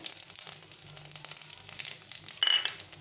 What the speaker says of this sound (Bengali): আমার এখানে তেলটা হয়ে গেছে আমি এখানে ফোড়ন লঙ্কা তেজপাতাটা দিয়ে দিলাম